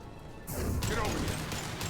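Abrupt crashing blast of a concussive shot ability in Mass Effect 2, a single sharp impact with a brief rushing tail amid game combat noise.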